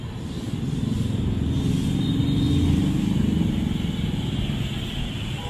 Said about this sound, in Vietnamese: siêu xe Ferrari 488 Spider